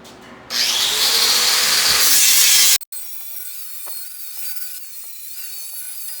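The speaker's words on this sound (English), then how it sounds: "Grind them up." An angle grinder shrieks loudly as it grinds down welds on a steel powder coating oven frame, one sustained burst that cuts off abruptly, followed by quieter workshop clinks and handling.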